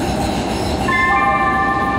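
Loud rumble of a Los Angeles Metro C Line (Green Line) light rail train in motion, with a steady high tonal whine from the wheels or motors rising partway through.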